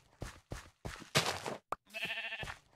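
Sheep bleating in a video game, several short close calls in a quick irregular series, the last one longer and more drawn out, with no talking.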